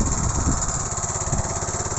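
An old Japanese mini tiller tractor ploughing furrows in a field, its small engine chugging at a steady, loud, close rumble with no pauses.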